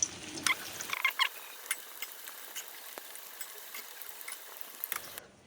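Jackfruit kofta fry in a pan with a faint, steady crackle broken by scattered small pops, fairly quiet and without voices.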